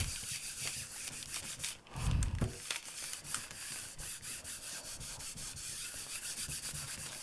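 Steady, close rubbing of a graphite drawing pressed down onto an 8x10 gel plate by hand, a soft continuous scrubbing texture with a brief louder swipe midway, no voices.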